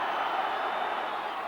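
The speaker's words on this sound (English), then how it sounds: "Crowd encouraging Southampton to get on with it" A football crowd at Southampton's ground during an FA Cup match against Nottingham Forest, urging the home side on with a steady, broad roar, fairly loud and continuous with no distinct chants.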